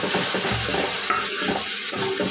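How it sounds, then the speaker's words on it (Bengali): Red masala spices frying in a pan while shrimp is being cooked, giving a steady broadband sizzle with light stirring scrapes, close and continuous with no voices. "মশলাটা ভেজে নিই, তারপরে ওগুলো দিয়ে দেবো।"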